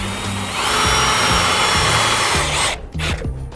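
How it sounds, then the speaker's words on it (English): A power drill whirs steadily, its motor pitch rising and falling as it turns a scissor jack, then cuts off and restarts briefly near the end. "Turn our drill so it's tightening."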